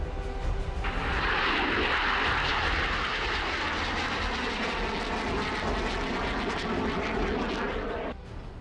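Chinese PLA Air Force fighter jets flying, a loud, steady engine roar that swells in after the first second and holds broad and powerful until it drops off near the end.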